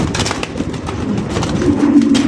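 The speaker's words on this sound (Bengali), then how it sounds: "এগুলো শর্ট ফোটা কবুতর তো দেন খাঁচার ভিতরে ঢুকাই দেন" Fancy pigeons in a cage, cooing close and loud in overlapping, throaty calls along with the flutter and shuffling of birds in the enclosure.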